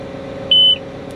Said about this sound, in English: It beeped, it says service mode there.